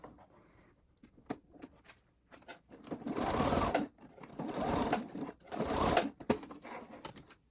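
A home sewing machine stitches elastic onto a pair of slippers in three short bursts of quick mechanical whirring, with clicks and fabric handling in the quieter gaps between runs.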